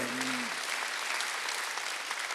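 Church congregation applauding during a Sunday worship service, a steady wash of clapping from many hands that fills the room and holds evenly throughout.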